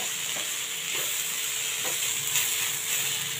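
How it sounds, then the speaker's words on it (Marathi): Onion and tomato sautéing in a pan for Maharashtrian shev bhaji, a steady close sizzle and hiss with a few soft stirring scrapes against the pan, no voices. "परतून घेऊया"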